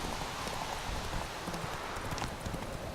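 A horse gallops in the video game The Witcher 3, its hooves making a quiet, steady clip-clop rhythm over faint background ambience, with no talking.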